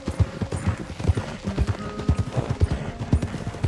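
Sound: horse hooves clip-clop, from a video game

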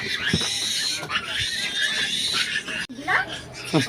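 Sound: pig grunting

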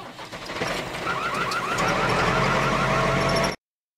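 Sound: tractor

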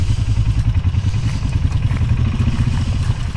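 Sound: lifted truck driving in low gear four-wheel drive

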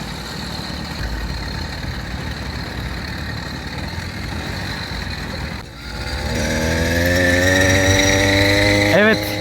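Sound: motorized bicycle engine riding on main road

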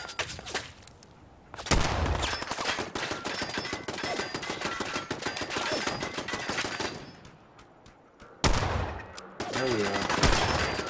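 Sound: gunfire in the video game Fallout 4

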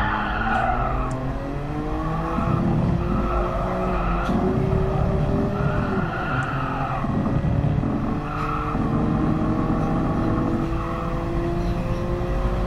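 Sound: Nissan Skyline GT-R R33 fishtailing with tire squeal, GT Sport video game

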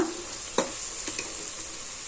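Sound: masala frying with mutton sambar powder on medium flame

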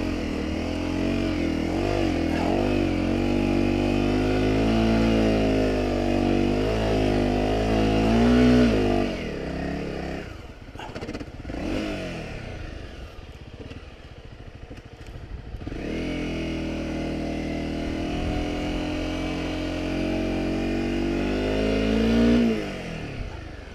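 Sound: Honda CRF250 Rally motorcycle riding on soft beach sand

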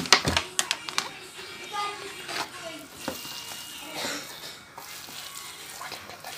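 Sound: stirring sliced potatoes and diced onion together

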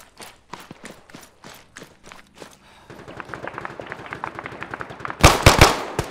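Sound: gunfire in the video game ARMA 3

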